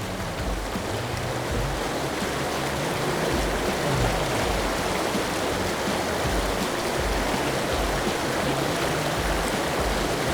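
Shallow, fast pocket water in a stream rushes over rocks in a steady, loud broadband wash with no breaks, close by and without talk.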